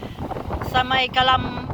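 Strong, cold wind buffeting the microphone at Calamba Baywalk on the Laguna lakeshore, a continuous rough rumble with gusting swells, while someone talks over it.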